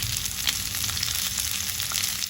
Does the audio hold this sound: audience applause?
no